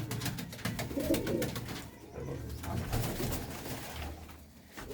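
Pigeons coo with low, throaty calls repeated through the stretch at a moderate distance, set against steady loft background noise.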